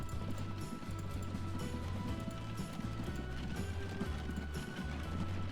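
Horses clip-clop steadily in the Transport Fever video game, a continuous patter of hooves under a droning, low, pulsing game soundtrack, with no talk.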